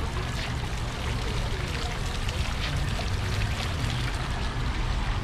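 Water sprays and splashes steadily into a fish tank inside a Chinese supermarket in the US, a continuous broadband hiss with shop noise and a voice faintly audible underneath.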